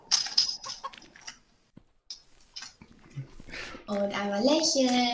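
Chickens clucking in the video game VoxeLibre, short soft clucks scattered among people talking, followed by a louder stretch of sustained tonal game sound near the end.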